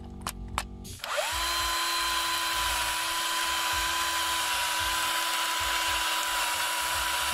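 A power-driven seat brush polishes the injector seat, where the copper ring sits, on a Mercedes CDI diesel engine during an injector change. The tool spins up after a few brief bursts and then holds a loud, steady whine with no talk.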